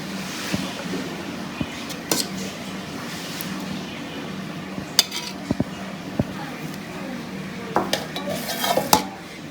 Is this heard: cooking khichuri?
yes